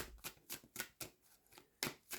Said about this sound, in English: wait until we get the right shuffle